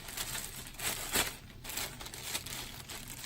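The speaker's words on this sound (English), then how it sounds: "I'm going to open the biohazard bag so that I can easily place our mercury spill into it" Faint crinkling and rustling of a plastic biohazard bag being opened for a mercury spill cleanup, soft irregular crackles with one brief louder rustle, no voices.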